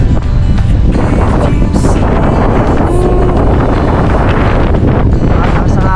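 Strong wind blowing outdoors on a hillside in Antipolo, a loud constant roar buffeting the microphone with no letup, with faint voices partly buried beneath it.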